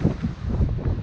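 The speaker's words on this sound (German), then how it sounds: "hier müssen wir nämlich ganz schön laut reden, weil hier geht Wind" Wind buffeting an outdoor microphone on a cold day in Sweden, a dense low rumble of gusts filling the whole second, loud and close.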